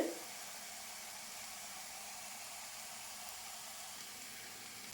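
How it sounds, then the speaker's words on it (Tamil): Carrots sauté in a pan on a home stove, giving off a soft, steady hiss like gentle sizzling. The sound stays faint and even throughout. "இந்த பக்கம் கேரட் சாப்பாடுக்கு கேரட் வதங்கிட்டு இருக்குது"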